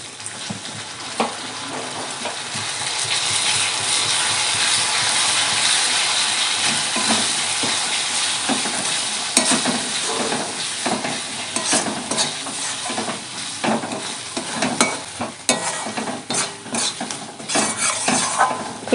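Spice paste of turmeric and chilli powder fries and is stirred in a pan for a Bengali jackfruit and prawn curry, a steady loud sizzle with repeated scraping and clinks of a spoon against metal, no voices.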